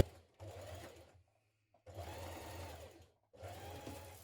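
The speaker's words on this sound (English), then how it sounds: "We're going to stitch around the bottom of the sleeve" A sewing machine stitches around the bottom of a summer dress sleeve in three close bursts of steady whirring, separated by brief silent pauses.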